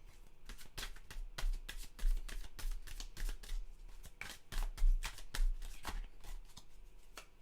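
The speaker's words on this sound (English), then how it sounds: "So I'm going to draw a Goddess Guidance card." Goddess Guidance oracle cards being shuffled and drawn from the deck, a steady run of crisp riffling snaps and slaps, close and moderately loud, with no talking.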